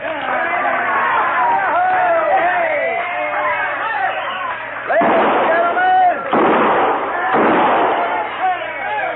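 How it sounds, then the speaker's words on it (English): Six-gun shots ring out inside a crowded Old West saloon in a radio drama: several sharp loud bangs in the second half, over busy crowd chatter and voices. "kindly refrain from shooting 6 guns in the establishment"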